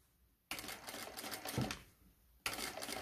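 A sewing machine stitches a classic zipper into a skirt along a chalk line, running in two loud, steady bursts with a short pause between them, close by and with no talking.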